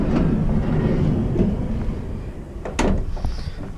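A Ram Promaster cargo van's side door being opened in an empty van shell, a sliding rumble with a sharper clunk near the end, close and fairly loud.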